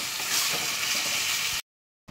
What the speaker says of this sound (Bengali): এবার আমি একটু অল্প করে জল দিয়ে দেব, দিয়ে চাপা দিয়ে দেবো।